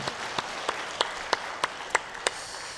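A church congregation claps to encourage its Eunpyeong worship team: about nine sharp, evenly spaced claps in a steady unison rhythm, fairly close and with no talking.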